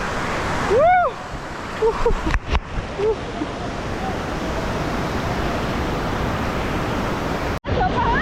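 Water rushes over a dam in a loud, continuous roar, close by, that fills the whole scene with hardly a break. A few short voices rise briefly above it near the start.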